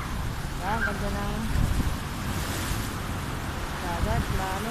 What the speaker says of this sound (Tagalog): Nangangalit ang dagat.